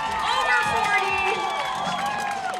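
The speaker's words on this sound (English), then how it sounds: "You can hear the people cheering right now." Spectators cheer and shout continuously as a runner nears the finish line of the 2023 Missoula Marathon, a loud, dense crowd roar with overlapping voices and whistling tones.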